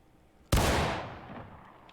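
A single loud rifle shot in War of Rights, a Civil War era shooter, rings out suddenly after a quiet moment and rolls away in a long, fading echo, with no voices.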